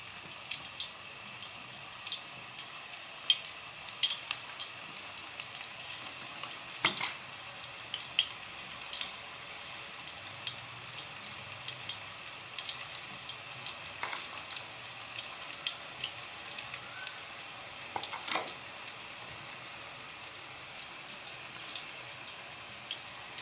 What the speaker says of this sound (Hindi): अब हम इसमें पकौड़े डालते हैं।